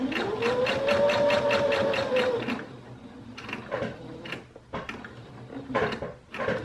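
Sewing machine stitching the last corner of a boxed bench cushion, a close steady mechanical whir for about two and a half seconds, followed by quieter clicks and handling noises as the work is adjusted.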